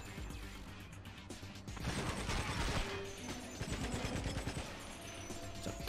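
Video game gunfire in GoldenEye: Rogue Agent, rapid bursts of shots and impacts with crashing clatter, moderately loud over a busy game background, no one talking.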